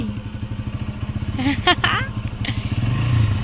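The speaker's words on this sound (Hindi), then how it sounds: "युगू बाइक चला रहा है." A motorcycle engine putters steadily at close range, its rhythmic low pulse running throughout while voices talk over it and someone briefly exclaims.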